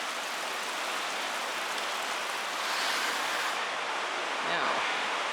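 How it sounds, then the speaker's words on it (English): Steady, dense hiss of rain falling outdoors, close and continuous throughout, swelling slightly toward the end. "so much for it not raining anymore today"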